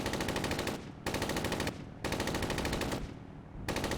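Sustained automatic gunfire in Arma 3, fired at a group of enemy soldiers dressed as CSAT, in four loud, dense bursts of about a second each, with short pauses between them and no talk.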